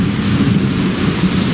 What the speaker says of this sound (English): Sitting on the porch, listening to thunder.